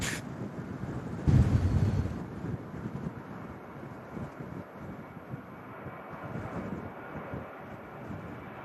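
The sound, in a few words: strong gusty wind at airport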